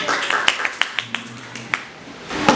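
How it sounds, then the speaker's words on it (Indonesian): A primary school class gives sparse, scattered applause: a few sharp, uneven claps at irregular intervals in a classroom, with a faint low hum in the middle. "Tepuk tangan."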